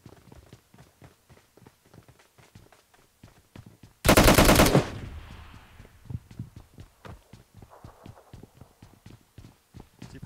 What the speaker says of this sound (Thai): ยิงกันรัวชิบหายเลย